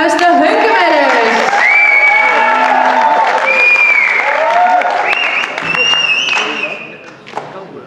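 Crowd applauding a band at a live concert, dense continuous clapping with shrill whistles and cheers, fading toward the end.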